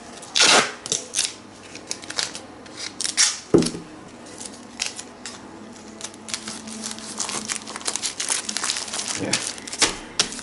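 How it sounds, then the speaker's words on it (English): Duct tape rips off the roll in sharp tearing bursts and crinkles as it wraps around a rice bag used as an RC track cone, with irregular rasps and rustles close by and no talk. "that's how I tape up the rice bag"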